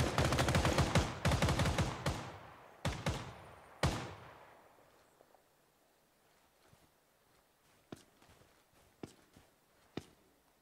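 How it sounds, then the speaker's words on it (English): Rapid bursts of gunfire in the tactical shooter Ground Branch, loud clustered shots in the opening seconds that thin out into scattered single cracks and faint distant reports over a quiet background. "I just took three shots"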